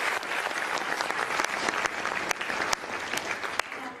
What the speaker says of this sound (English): So can we have another round of applause for Raj Shri?